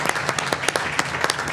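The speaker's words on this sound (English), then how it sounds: "We just want to give you and Keyshawn another round of applause" A short round of applause from the audience at a school board of education meeting, with distinct claps rattling quickly and closely for a second or so.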